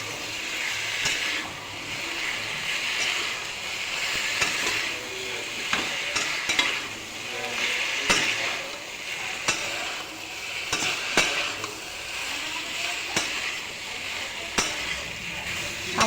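Green chillies, ginger and cumin paste sautéing in a pan with salt and turmeric, a steady close sizzle with repeated scraping stirs and clicks of the spatula throughout.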